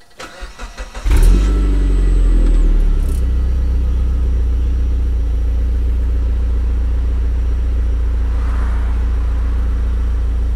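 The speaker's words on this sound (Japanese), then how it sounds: "エンジンをかけた時のマフラーの音をお聞きください。" A Mitsubishi Lancer Evolution X cranks over in a few quick turns, fires up loud and close, then drops into a steady, deep exhaust idle that continues alone with no talking.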